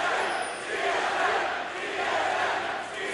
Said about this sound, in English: TSM definitely audible through the noise of the crowd